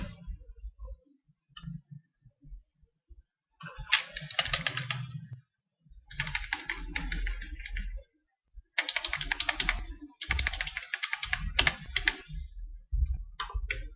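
Computer keyboard shortcuts pressed during Photoshop editing: bursts of close, crisp key clicks and taps in irregular clusters separated by short pauses, with no talking.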